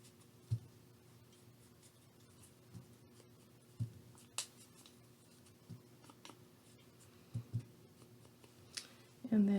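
An ink stamp dabbed repeatedly onto an ink pad before stamping coffee-dyed paper, a series of soft, irregular close taps and pats, faint and quiet, with no voice.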